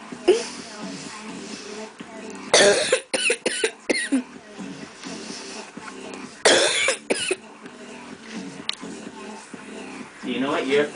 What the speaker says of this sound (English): You had a cough and laugh